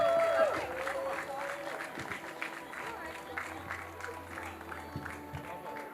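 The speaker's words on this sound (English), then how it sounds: "Round of applause for Victory Asaka, please." An audience claps for a spoken-word poetry performance, a steady patter of applause from a crowd that fades gradually, with voices mixed in.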